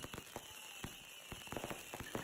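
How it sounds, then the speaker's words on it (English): Fireworks being set off outdoors give scattered sharp cracks and pops, faint and irregular, over a steady hissing background with no talking. "Congrats on the fireworks. I mean, blowing those off right now just for the sake of this this commercial is awesome."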